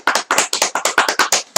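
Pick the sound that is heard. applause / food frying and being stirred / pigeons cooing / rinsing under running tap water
applause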